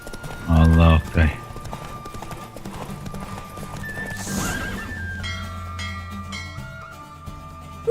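A horse in a video game race gallops with loud clip-clop hoofbeats, then neighs and whinnies, with game music and effects continuing around it.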